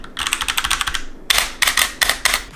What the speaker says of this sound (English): Despite feeling good and sounding semi-tactile, the S107 is a basic membrane style keyboard.